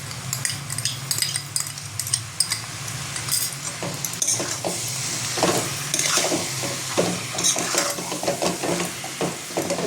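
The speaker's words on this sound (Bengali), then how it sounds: "মাংসটাকে ভালো করে আমি কষাবো।" Marinated chicken with whisked sour yogurt is stirred and sautéed in a pan, giving a loud continuous sizzle with busy scraping and clinking of a spatula against the metal pan throughout.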